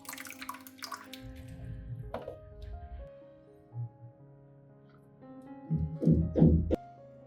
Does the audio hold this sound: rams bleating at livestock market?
no